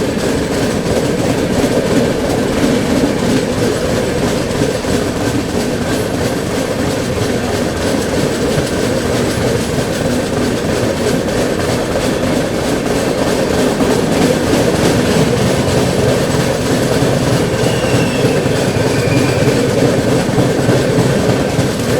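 A Patna Junction–Udhna Special train rushes past at speed, a loud, steady roar of rolling wheels and rattling coaches that lasts the whole stretch, with no talk.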